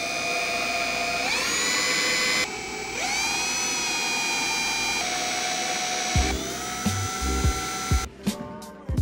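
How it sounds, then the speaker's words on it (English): A power drill whines through fiberglass while holes are drilled for a StreetHunter rear wing on a 2021 Toyota A90 Supra, in several sustained rising bursts, close and loud, followed by knocks and handling clatter. "Drill these holes now."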